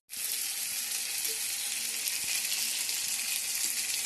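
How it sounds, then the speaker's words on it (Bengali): Fish frying in hot oil gives a steady, loud, close sizzle that runs without a break from start to finish, with no voices over it. "তাই মাছটা ভাজা হতে থাক"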